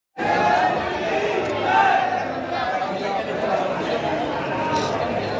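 Dense crowd of devotees at Khatu Shyam temple, a steady loud roar of many voices and chanting filling the space, continuous with no pauses.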